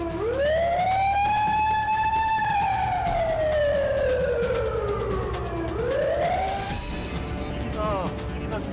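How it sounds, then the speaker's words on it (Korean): A loud wailing warning siren before tunnel blasting at a construction site rises, holds and slowly falls in pitch, then swells again before cutting off amid outdoor noise. "그 시각 작업이 차질 없이 진행된 다른 구역에서 사이렌 소리가 울린다."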